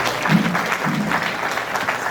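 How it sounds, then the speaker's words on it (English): A small crowd at a football alumni hall of fame ceremony applauds and cheers for Petey Stewart, a brief burst of clapping with a few louder whoops at moderate distance. "Got a cheering squad over there right now."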